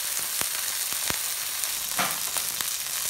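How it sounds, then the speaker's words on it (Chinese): Rosemary chicken thighs frying skin-side down in a pan over medium-low heat, a steady soft sizzle with occasional sharper pops and crackles, close and alone. "让它在里头慢慢的煎，鸡皮朝下。"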